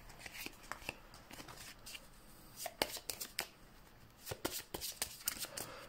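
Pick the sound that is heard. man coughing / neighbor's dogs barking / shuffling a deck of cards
shuffling a deck of cards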